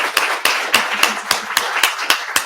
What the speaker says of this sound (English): let's give a round of applause before we get into Q&A.